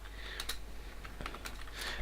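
A few quiet, scattered keystrokes on a computer keyboard while typing in Notepad, with soft irregular clicks over a low background hum.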